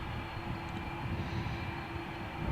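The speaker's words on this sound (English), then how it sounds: "Aer Lingus flight from Malaga to Dublin is now taxiing for takeoff" An Aer Lingus Airbus A330 taxis for takeoff at Malaga Airport on a stormy morning, its engines giving a steady, heavy, continuous rumble and whine that holds constant throughout.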